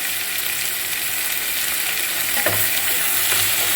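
Okra masala frying on a medium flame while being stirred, a continuous close sizzle with scraping and stirring knocks of a spoon against the pan.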